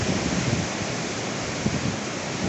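Dam spillway gates releasing water that drops like a waterfall, a dense, steady roar of rushing and crashing water with no pauses or voices.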